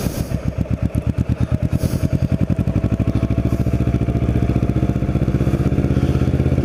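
A Kawasaki Ninja motorcycle ridden around Cape May near the beach, its engine loud and close with a steady, rapid pulsing rhythm that quickens as it revs up.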